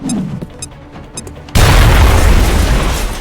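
An explosion in the video game XCOM Enemy Within (Long War) erupts as a sudden loud boom after a few quiet clicks, then a dense rumbling roar that fades slowly.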